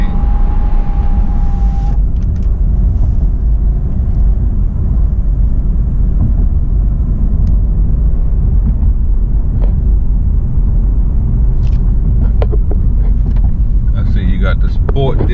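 BMW 650i Gran Coupe turbo engine roars steadily under hard acceleration, a loud continuous low rumble heard from inside the car with wind noise mixed in.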